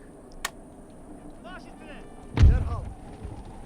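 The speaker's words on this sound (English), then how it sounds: "This is the demi cannons." Demi cannons firing in Empire Total War, a sharp crack followed by a heavy booming blast with a rumbling tail, set amid faint ambient battle noise.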